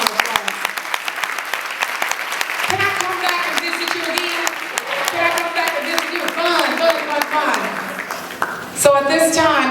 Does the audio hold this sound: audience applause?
yes